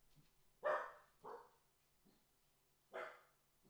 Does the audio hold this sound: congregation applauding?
no